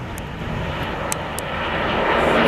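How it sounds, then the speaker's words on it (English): A Boeing 767-400 jet airliner at Atlanta airport roars in a broad, steady rush that slowly swells louder, heard from outside at a distance with faint high clicks above it and no speech. "They tend to operate in pairs, these 767-400s."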